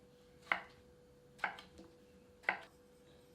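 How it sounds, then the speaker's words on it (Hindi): Zucchini chopped into pieces on a board: three sharp knife thuds spaced about a second apart, close and distinct against a quiet background. "इसी प्रकार 250 ग्राम जुकीनी को भी टुकड़ों में काट लेते हैं"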